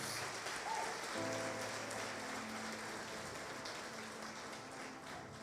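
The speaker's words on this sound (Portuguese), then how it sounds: "Você pode aplaudir ao Senhor Jesus por isso, irmãos." Church congregation in a Brazilian Portuguese service applauding, a broad continuous wash of clapping at a distance, steady and fairly faint, with brief tonal sounds faintly underneath and no talk.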